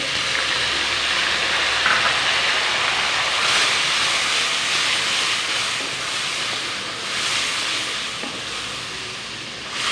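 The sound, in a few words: garlic ginger paste sizzling as added to browned onions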